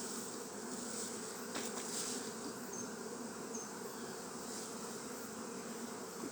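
Honey bees buzz during a beehive check at Maungatautari, a dense, steady drone of many insects heard near and alone, with a few louder passes.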